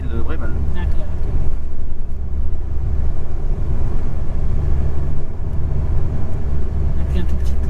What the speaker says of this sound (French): un tout petit peu, on entend le son d'échappement